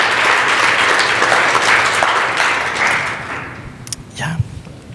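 A church congregation breaks into loud, dense applause during a service, sustained for several seconds before thinning out, with a voice speaking over the end as the clapping dies down.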